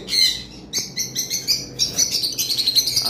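Pet birds at a seller's shop chirp close and loud, giving a rapid run of high, bright tweets and calls with short gaps in between.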